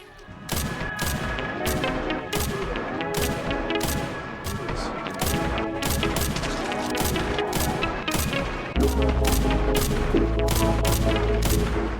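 Sniper rifle fire in Resident Evil Requiem, with sharp repeated gunshots cracking over a continuous game soundtrack and rumbling action, shots coming in irregular rapid bursts and a deep low drone swelling near the end.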